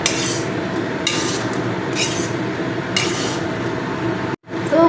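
Fried potato pakoras being stirred with sauce in a pan: a continuous wet, sticky shuffling with periodic scrapes and clinks of a utensil against metal about once a second, close and moderately loud, with a brief pause near the end.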